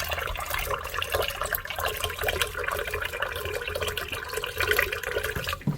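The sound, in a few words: water purifier dispensing water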